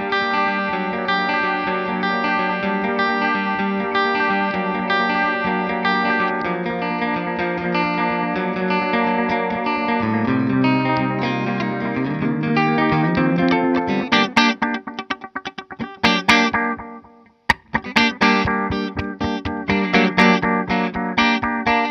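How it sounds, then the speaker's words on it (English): Electric guitar runs through a Seymour Duncan Vapor Trail delay pedal with the delay mix turned above the dry signal, dense repeating echoes smearing sustained chords, then choppy picked notes after a brief gap. "So now the delay is a lot louder pretty much than the actual guitar sound."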